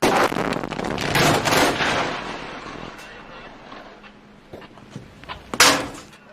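Blasting charges going off in an open-cast coal mine, a cluster of sharp, loud detonations and rumbling bursts in the first few seconds, then scattered fainter thuds and one more sharp crack near the end.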